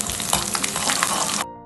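Mustard seeds and urad dal spluttering and crackling in hot oil for a Kerala-style Malabar fish curry, a dense, steady sizzle with sharp pops throughout, close up, stopping abruptly near the end.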